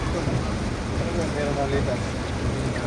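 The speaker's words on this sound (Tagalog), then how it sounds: "Yan na, ang lakas ng ulan." Heavy rain pouring down outdoors in Albay, Bicol, a dense, steady wash of noise that stays loud and even throughout, with voices faintly mixed in.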